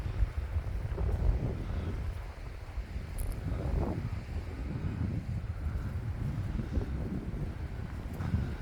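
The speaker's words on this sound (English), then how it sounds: "Oh, that wind takes your breath away." Strong outdoor wind gusting steadily against the microphone, a continuous low rumbling buffet with no voices, lasting several seconds.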